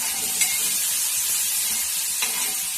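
Onion, carrot and green chili sautéing in coconut oil for potato bonda filling, a steady close sizzle with soft stirring scrapes and a couple of brief clinks.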